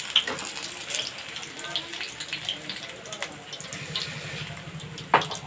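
Eggplant bajji frying in a pan, a faint steady sizzle with occasional pops and crackles, under someone talking.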